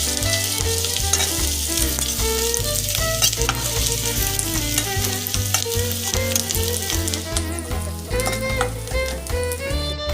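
Tomatoes frying in a pan for shakshuka, a loud, steady sizzle with stirring that carries on throughout, close up and with no talking.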